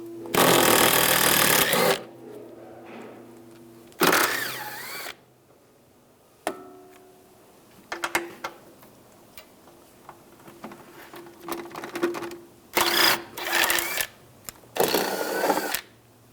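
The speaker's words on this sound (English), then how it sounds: "Using a 10mm socket, take these nuts off." A 10mm socket on a power tool spins off nuts while rear shock absorbers are replaced on a 2013-2016 Dodge Dart, heard as several loud, sharp mechanical bursts separated by pauses filled with softer clicks and clinks.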